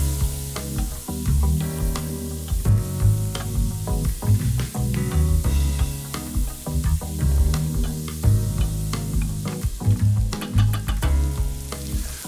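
Bacon, pork, pear and sour cherry filling sizzling and frying in a pan, a continuous crackle with repeated scraping stirs throughout, close and moderately loud, no talking.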